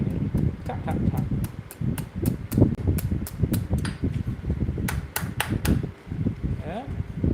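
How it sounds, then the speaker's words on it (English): Blacksmith's hammer tapping metal held at the edge of an anvil while forging, a run of sharp, bright metallic strikes in an uneven rhythm, close and loud over low background rumble and murmuring. "holding it right at the edge of the anvil. Just tapping it. Tap, tap, tap."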